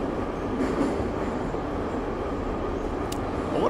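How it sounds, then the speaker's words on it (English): A subway train in the video game Big Ambitions rumbles steadily with a loud, dense low roar and faint rail squeals, continuous throughout with no voices. "The subway's kind of loud."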